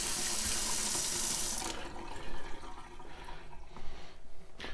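Hot water runs steadily from a tap fed by a newly installed tankless water heater, a loud hissing stream that suddenly quiets partway through, leaving softer splashes and drips.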